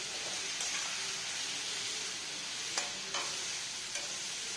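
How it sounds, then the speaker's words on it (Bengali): Vegetable paneer poha fries in a pan with salt, turmeric and sugar, giving a steady close sizzle with a few soft stirring scrapes and no talk. "এটাকে ভালো করে ফ্রাই করতে হবে, তাকে এটা ভালোভাবে সেদ্ধ হয়ে যায়।"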